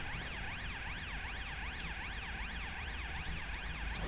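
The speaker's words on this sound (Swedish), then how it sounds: "Kan vi börja med att stänga av våra sirener kanske?" Police car sirens wail in the GTA video game, a steady rising-and-falling electronic tone that keeps cycling evenly for several seconds over a dense, noisy background with no talking.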